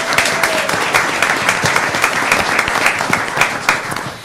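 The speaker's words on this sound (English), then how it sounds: "can we give a round of applause?" An audience at a county school board meeting applauds for a few seconds, dense and fairly loud, with no talk over it.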